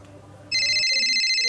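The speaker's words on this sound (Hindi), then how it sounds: "अरे साला लक्ष्मी के फोन आवे थे, वो भी मोर मोबाइल में।" A mobile phone ringtone starts abruptly and rings loud and steady, a bright electronic tone following faint background sound in a Chhattisgarhi short film scene.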